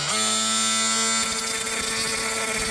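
An oscillating multi-tool cuts through an LED light channel, giving a loud, close, continuous buzzing whine that drops to a slightly lower, rougher pitch partway through.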